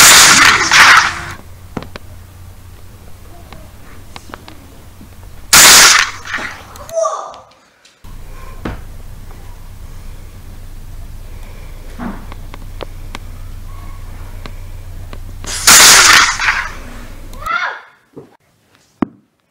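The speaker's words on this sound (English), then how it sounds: "Gunfight!" Several sharp, loud cracks ring out during a gunfight, spaced apart with quieter gaps and brief muffled sounds between them.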